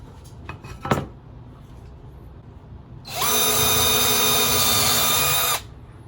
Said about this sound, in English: Let me get that pilot hole drilled.